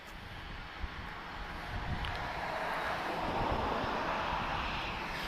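An EasyJet Airbus A321neo arriving at Lisbon from Tenerife, its jet roar rising steadily and holding loud as it nears, with a brief thump early on and some wind buffeting.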